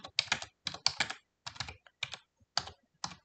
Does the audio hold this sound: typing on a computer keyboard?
yes